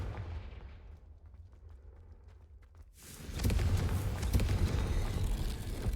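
In the Hogwarts Legacy video game, the Confringo spell sets off a sudden loud, roaring explosion that swells midway after a quieter, muffled stretch and sustains a rumbling, crackling tail.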